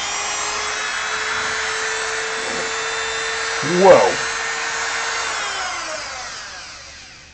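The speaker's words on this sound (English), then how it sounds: "kill your volumes one last time for some drilling" Power drill boring into a lantern build, a steady high whine that runs for about five seconds and then winds down, with a short exclamation from a voice partway through.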